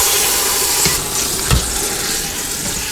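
Pork loin browns in a pressure cooker with a loud, steady, close sizzle, a dense hiss of frying that holds throughout with small crackling pops.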